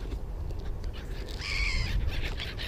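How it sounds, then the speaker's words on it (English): Seagulls calling in a woodland setting where crows are being fed, a faint squawking burst in the second half over soft rustling background, with no talk. "seagulls make a lot of noise"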